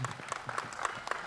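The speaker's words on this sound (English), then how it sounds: "Give a big round of applause to our panelists today." An audience at a panel event claps for the panelists, with scattered, individual claps that sound fairly faint and distant.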